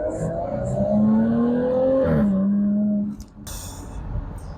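A powerful Jaguar F-Type engine revs and climbs in pitch, easing briefly before accelerating again, loud and close, then dropping off into road noise.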